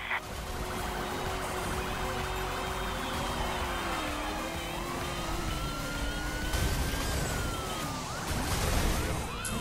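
Police car sirens wail in a car-chase video game, their rising and falling tones sweeping continuously over a steady engine and traffic roar, with a brighter burst near the end.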